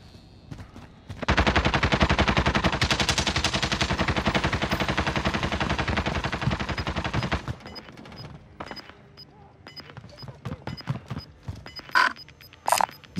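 A Call of Duty submachine gun fires in a long continuous burst for about six seconds, loud and close, followed by scattered quieter game noises.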